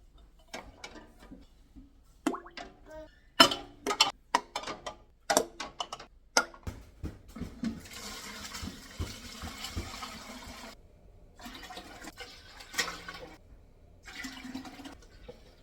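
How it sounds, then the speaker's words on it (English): Chicken broth being strained and poured into a big pot while pressure canning stock, with splashing liquid pouring and clinking kitchen sounds, fairly close, no talking. "I'm going to strain off all of this broth and add it to a big pot with all the other broth that I have."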